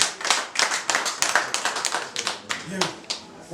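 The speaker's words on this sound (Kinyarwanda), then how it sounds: "Mwongera amashyi nk'umuntu." Applause at a savings week award ceremony for a Rwandan cooperative, a crowd clapping steadily and close with a rapid uneven rhythm, a voice briefly heard near the end.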